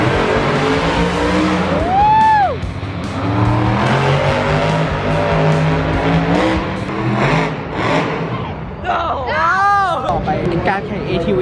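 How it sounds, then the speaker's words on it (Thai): ATV racing engines whine and rev past at close range, with rising and falling pitch sweeps as the quad bikes accelerate by, while a crowd murmurs and someone talks over the noise. "การแข่ง ATV มาแล้วแข่งรถได้สนุก"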